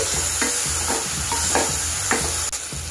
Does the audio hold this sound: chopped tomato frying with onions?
yes